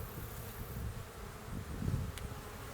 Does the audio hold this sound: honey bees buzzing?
yes